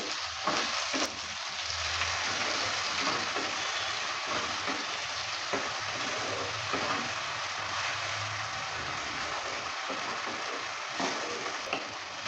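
Spice paste frying with potatoes in a pan for a light foli fish curry, a soft steady sizzle with occasional stirring clicks, close and moderately quiet, with no talking.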